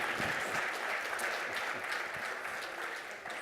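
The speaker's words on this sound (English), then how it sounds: "give him a warm round of applause" A crowd applauds steadily, with dense clapping holding for a few seconds and then easing off slightly at the end.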